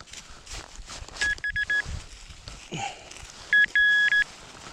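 A metal detector gives two short electronic beep bursts signaling non-ferrous metal, the second louder and longer, over rustling and footsteps in a forest in Warmia, Poland.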